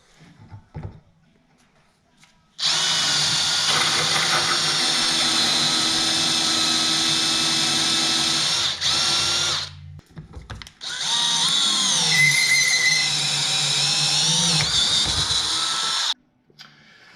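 A power drill fitted with a 3/4 inch hole saw and then an auger bit cuts through Formica, two loud sustained whining bursts separated by a short pause, with quiet moments before and after.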